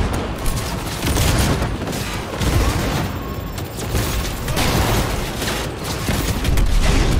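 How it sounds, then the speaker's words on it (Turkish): Enemy gunfire in the video game Cyberpunk 2077, loud sustained volleys of shots coming in waves with booming impacts, no talk over it. "Abi her taraftan sıkıyorlar."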